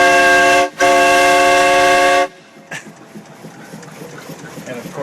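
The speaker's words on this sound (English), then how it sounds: "the only reason for the boat is the whistle" A steam boat's whistle blasts loud and close in a rich, steady tone, breaking briefly for a split second before sounding again, then cutting off abruptly to quiet chugging and water noise.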